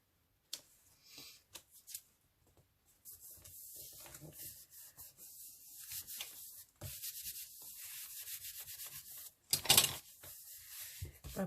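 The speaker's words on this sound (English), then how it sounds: "rub this glue off" Glue is rubbed off a paper collage up close, making a soft, steady dry scraping and rustling that builds over several seconds and is broken by a few louder handling bumps and brief pauses.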